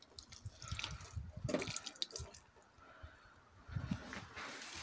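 Water poured from a container onto garden herbs and pepper plants, splashing and trickling in a few uneven bursts with brief pauses, close by and fairly quiet.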